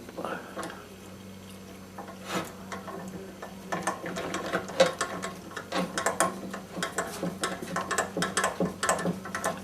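An airbox repair: a handle is screwed by hand into the piston valve, giving a run of small ratcheting clicks and mechanical ticks that grow busier and louder toward the end, close up with a faint steady hum beneath.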